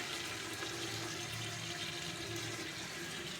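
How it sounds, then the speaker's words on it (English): Gray water from a sink in a simple off-grid bathroom drains in a steady, continuous rush, a soft constant gurgling wash with no talking. "all my gray water comes out here"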